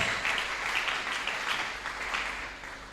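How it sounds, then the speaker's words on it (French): A church congregation claps together in a sustained wash of applause, dense and even, heard at a moderate distance and gradually tapering off, with no speech over it. "acclamons pour la gloire de Dieu"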